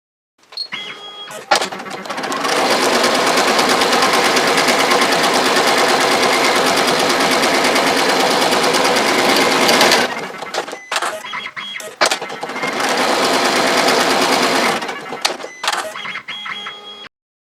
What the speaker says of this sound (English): And now we're ready to sew again.